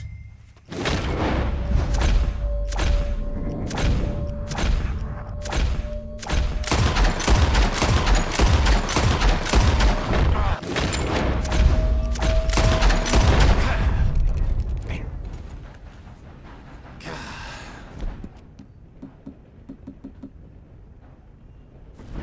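Rapid volleys of gunfire from a Red Dead Redemption 2 shooting contest, loud sharp shots packed densely for about fourteen seconds, then thinning to a few scattered faint reports with some voices in the background.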